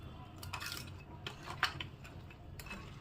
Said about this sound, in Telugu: ఇప్పుడు మొత్తం కలిసేలా కలుపుకుందాము